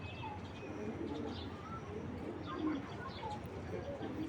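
A male racing pigeon from a seller's flock gives soft, low coos amid a murmuring loft, faint and continuous, with a voice talking quietly in the background.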